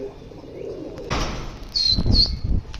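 Pigeons burst into flight from a rooftop loft, a sudden flurry of flapping wings followed by chirps and coos close by, with no talk.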